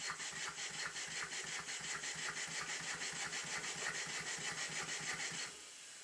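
A Stuart Models No. 9 model steam engine running on compressed air during a test run, giving a fast, even chuffing beat close up that cuts off abruptly near the end, with no talking.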